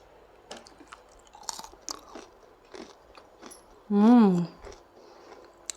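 Crispy homemade sesame til papdi, made from jaggery and sesame seeds, is bitten and chewed close up, giving soft, scattered crunches. A brief voiced murmur of approval rises loudly partway through.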